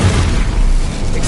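A fiery spell burst in the Hogwarts Legacy video game, a loud, low booming whoosh that fills the short moment with dense rumbling energy and no talk.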